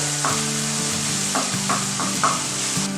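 Masala fries in a pan for gongura mutton curry, giving a loud continuous sizzle broken by several scraping stirs of a spoon, close by and without talk.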